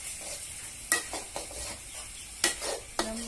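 A spatula scrapes and clanks against a wok while basil pork stir-fries over a soft, continuous sizzle, with a few sharp metallic strikes at irregular intervals.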